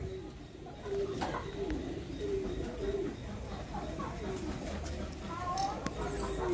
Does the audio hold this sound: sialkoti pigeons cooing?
yes